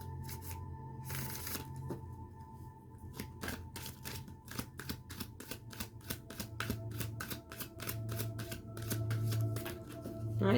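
Tarot cards shuffled at a private reading, a fast run of crisp riffling flicks in repeated bursts, close and steady, with a low hum underneath.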